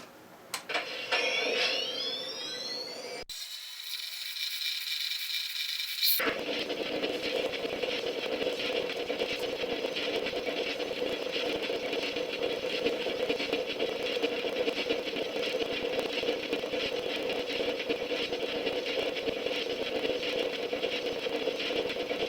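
A Ghostbusters proton pack replica powers up with rising synthetic whines, briefly cuts, then settles into a loud, steady buzzing hum that continues until the timeout.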